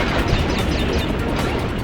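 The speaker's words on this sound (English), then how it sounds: "this explosion does properly destroy the crates" A continuous roaring, crackling explosion in Crash Bandicoot: The Wrath of Cortex, blasting crates apart in a dense, loud wash of noise lasting the whole moment.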